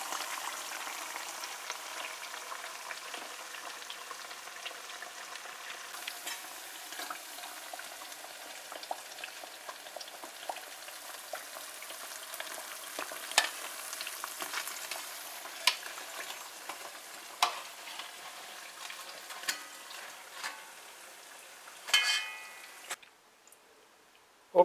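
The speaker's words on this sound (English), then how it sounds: "so we are frying our last set of baras now" Guyanese baras fry in hot oil, a steady soft crackle and fizz with scattered louder pops and ticks throughout, ending in a brief clatter before cutting to quiet.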